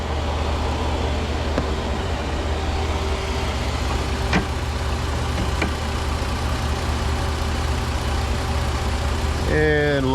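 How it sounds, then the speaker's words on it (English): AC refrigerant recovery machine switched on and running in a repair shop, a steady low motorized hum and rumble with a few faint clicks, ending with a short rising whir near the end. "AC machine powering on."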